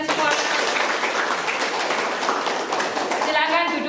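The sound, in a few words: classroom applause after singing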